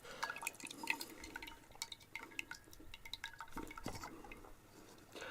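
Liquid drips and trickles as a can of whole chicken drains, with small wet plops and faint metallic clinks, close and quiet, with no talk.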